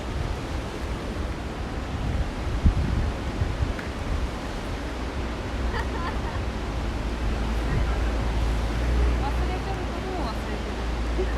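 Ocean surf at Diamond Head before sunrise, a steady broad wash of waves with wind and faint crowd murmur throughout, constant and moderately loud with no distinct breaks.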